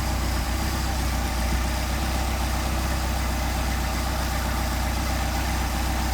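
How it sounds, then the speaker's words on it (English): A Mercedes 190SL engine with Solex carburetors idling low, a constant, close, rumbling drone that holds steady without revving throughout. "I was going to see how low this would idle just for fun"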